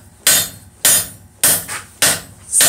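Heavy hammer blows ringing on hot steel being forged at a vice, four loud evenly spaced strikes, each with a short metallic decay, no talking.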